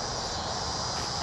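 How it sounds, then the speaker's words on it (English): A steady, high-pitched insect drone, like a cicada, buzzes continuously in the background at moderate distance. "That sound you hear in the background is a cicada."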